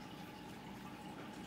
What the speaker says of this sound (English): It's almost boiling.